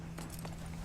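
Horse hooves clip-clop in Red Dead Online, a few soft quick steps over a steady low hum of game ambience, faint and distant.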